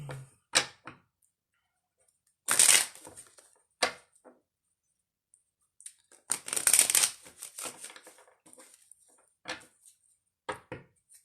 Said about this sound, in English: These cards are not wanting to shuffle.